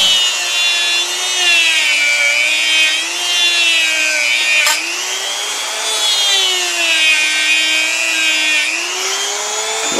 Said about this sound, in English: slowly rotating the hook and slowly going side to side with the polishing wheel